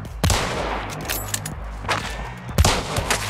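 Gunfire in the video game Hunt: Showdown, with several sharp shots spaced over a few seconds, a couple loud and near and others fainter, over quiet ambience.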